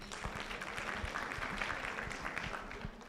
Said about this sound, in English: ladies and gentlemen, a round of applause once again.